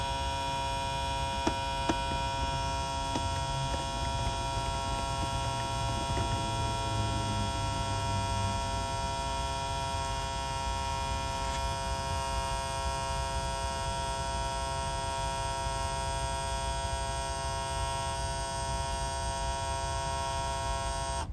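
A small pump on a DIY fill station fills an RC airplane fuel tank, giving a steady, quiet electric hum with tonal buzzing that holds unchanged for about twenty seconds.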